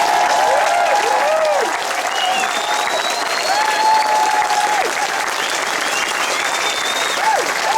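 A crowd at a wetlands rally claps and cheers steadily, with whistles and shouts rising over dense applause throughout, loud and close.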